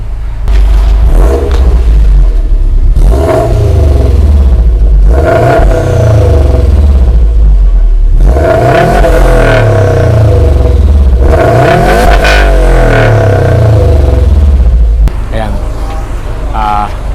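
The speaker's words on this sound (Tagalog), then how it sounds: "gumanda yung tunog niya kahit naka-stock exhaust because of the downpipe" A Subaru WRX STI on a stock exhaust with an aftermarket downpipe revs repeatedly from outside, each blip rising sharply to a loud, throaty roar and falling back to a burbling idle, several times in a row, with a voice speaking between revs.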